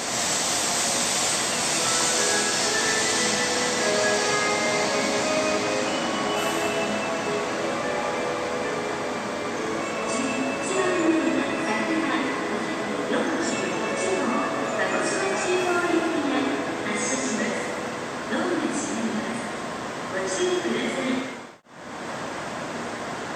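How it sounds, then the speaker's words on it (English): A Sakura 541 Shinkansen pulls out of Hiroshima Station with a broad, steady roar and hiss that builds and shifts as it moves off. Brief higher clanks come in partway through. "the Sakura 541, which came later, departs from Hiroshima Station"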